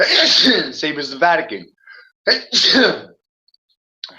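A single sharp sneeze bursts out between stretches of a man's speech, close and loud, followed by talking.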